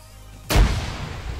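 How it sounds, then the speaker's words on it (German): A single loud gunshot in Arma III with a sharp, booming crack that fades into a rumbling tail. "Oh, Schüsse."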